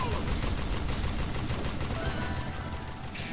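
Dense, continuous gunfire from the Western shooter Call of Juarez Gunslinger, a loud rattling barrage of shots with mechanical clatter that eases slightly toward the end.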